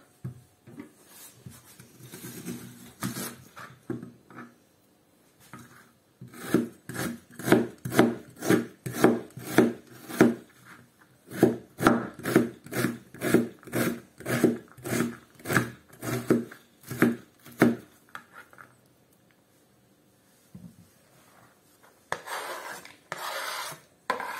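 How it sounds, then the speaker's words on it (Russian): A knife dices an onion into cubes rapidly on a cutting board in long rhythmic runs of dry cuts, close and distinct, with brief pauses between series. "Сейчас буду кубиком резать лук."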